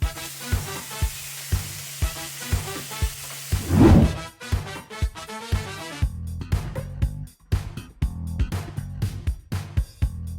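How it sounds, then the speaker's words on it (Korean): Korean beef steak cooks in a pan, with sizzling and frying under rhythmic tapping and clattering from stirring or handling, a louder burst of sizzle near the middle. "이제부터 철룡인인 저희 친영이 저를 위해 음식을 만들어줄 겁니다."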